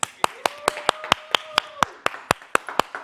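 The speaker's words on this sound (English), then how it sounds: "Studio clap." Hand claps ring out in a podcast studio, about a dozen sharp, evenly spaced claps in a steady rhythm, close and loud, with a faint tonal sound briefly underneath.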